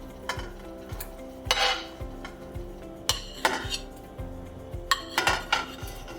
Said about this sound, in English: Just gonna stir to make sure none are sticking together.